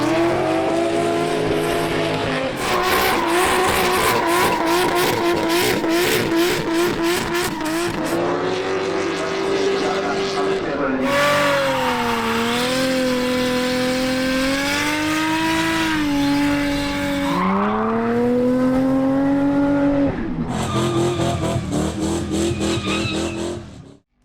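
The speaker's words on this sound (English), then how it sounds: "it's time to check out the drifting" Drift cars at Hidden Valley Raceway in Darwin scream through sustained, loud tire squeals with wailing engines rising and falling, punctuated by rapid rev-limiter bursts, continuing for over twenty seconds with cars sweeping near and away.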